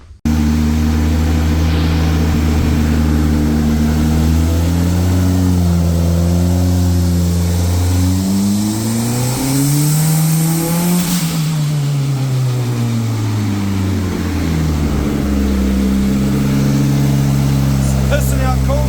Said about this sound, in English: we'll get this Swift on the dyno and see if we can't blow it up